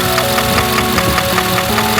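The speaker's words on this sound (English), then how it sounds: "We got a knocking engine noise." Ford Super Duty truck engine running with a steady, loud mechanical knock, a rapid regular tapping pulse riding over the continuous engine drone, heard up close with no talk.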